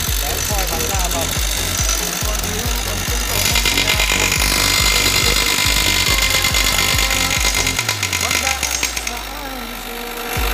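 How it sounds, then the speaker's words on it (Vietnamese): An oil-free milling cutter machines metal on a double-head cutting machine, hammering in a fast, loud, regular chatter close by, with a low droning hum underneath and someone talking over it. "Đây là phay không dầu anh em nhé."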